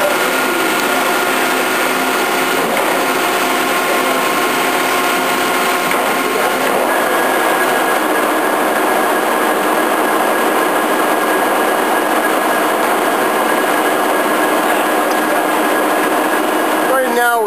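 A Lucas table-type horizontal boring mill feeds out its 5-inch spindle with a steady, loud mechanical whine and hum of gears and motor, continuous throughout with little change in level.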